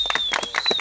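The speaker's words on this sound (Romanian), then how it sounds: "Wow, aplauze, mă rog." Scattered clapping from a small crowd at a forest camp festival, several uneven hand claps in quick bursts, close by, with a steady high electronic tone running beneath them.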